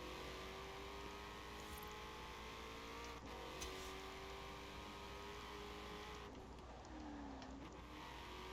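A 2005 Hot Wheels Mustang from Forza Horizon 4 is driven through a forest, its engine droning steadily at mid revs with a gradual pitch rise and fall as it accelerates and eases off, loud and continuous with no talking.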